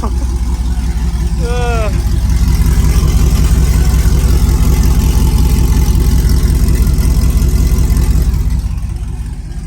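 A car engine with newly installed long-tube headers idles with a steady, loud low rumble throughout, a brief higher whine near the start, then it settles into an even drone.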